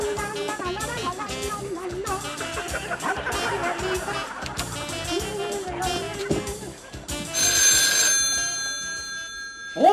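A telephone bell ringing in a Spanish New Year's Eve TV comedy sketch: loud music gives way to a bright, sustained ring that comes in near the end.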